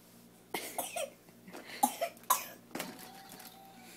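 A series of close coughs sounds in several separate bursts, some harsh and rasping, with short quiet gaps between them.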